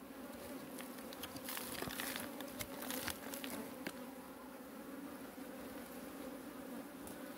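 Honey bees swarm around a hive, making a continuous, even buzzing drone, faint and steady throughout, with occasional louder individual bees passing close by.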